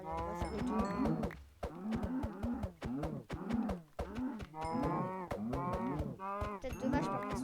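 Cows in a video game moo over and over, a herd of overlapping, drawn-out calls with barely any pause, loud and close throughout.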